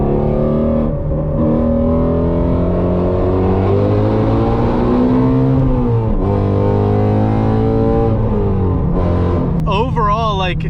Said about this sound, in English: you can kind of hear the motor right now too, a little bit louder than usual.